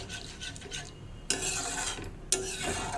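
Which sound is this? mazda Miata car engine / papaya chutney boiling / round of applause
papaya chutney boiling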